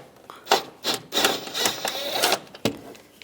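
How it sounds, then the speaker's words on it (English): A 13mm socket works a bolt loose on the transmission mount of a 1998-2010 Volkswagen Beetle, with several loud, close, scraping ratchet-like bursts in quick succession. "And then use a 13mm socket. Take this bolt out."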